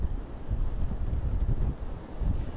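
Wind and surf along the Narragansett coast on a stormy day, a steady loud low roar of gusts buffeting the microphone with the rolling wash of waves beneath, no voices.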